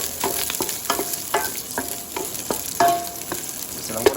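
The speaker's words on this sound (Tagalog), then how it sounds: "Lagay na po natin yung ating bawang sibuyas." Garlic and onion sautéing in hot oil for loaded fried rice, with a close steady sizzle broken by repeated rhythmic stirring scrapes.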